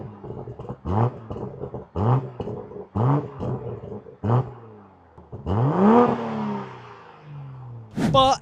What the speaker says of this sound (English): give you a few little low RPM sound revs